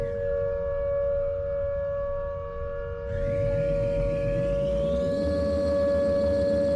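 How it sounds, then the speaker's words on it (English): A video game tornado siren wails steadily, then rises in pitch and grows louder as a second tone swells in, sustained and droning throughout. "It's always quite spoopy hearing these sirens."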